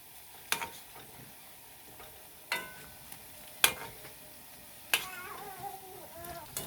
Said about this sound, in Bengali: এভাবে উল্টে পাল্টে লাল করে ভেজে নেব।